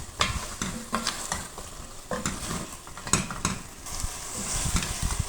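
A fish head fries in a pan that will soon take gourd and potato, with loud close sizzling and repeated sharp clanks and scrapes of a spatula against the metal pan, in an irregular stirring rhythm.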